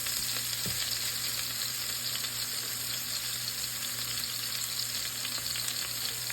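Pork frying in a pan on a burner set to medium-high, giving a steady, dense sizzle that holds even and loud throughout with no voices.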